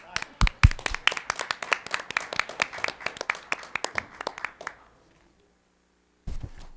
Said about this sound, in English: And another round of applause